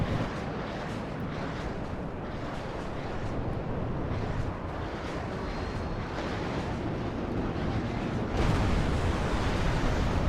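Bombs burst in the real-time strategy game WARNO, forming a dense, continuous roar of rumbling explosions that swells slightly louder near the end.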